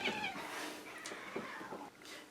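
A pet cat named Felicia gives a few soft meows at close range, faint and brief against a light background hiss.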